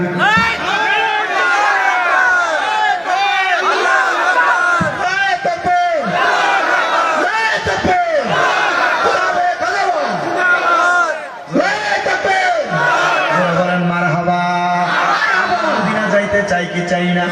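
A large gathered crowd shouts takbir together in loud, repeated massed calls that rise and fall in waves, with a leader's voice prompting between bursts.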